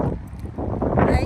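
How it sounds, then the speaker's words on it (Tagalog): Gusting wind buffets the microphone outdoors in a Swedish city street, a rough low rumble and broad rush that swells louder toward the end. "Hangin."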